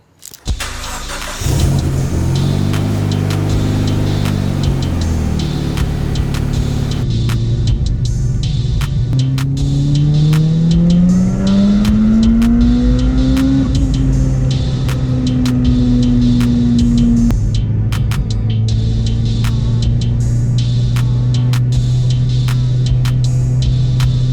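A turbocharged Mitsubishi Evo X engine on E85 idles and then revs up steadily through a long, loud dyno pull, the pitch rising and falling, with a deep continuous drone throughout.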